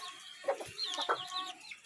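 Backyard chickens give a few soft, close clucks and short throaty calls in a quiet setting, with brief pauses between bursts.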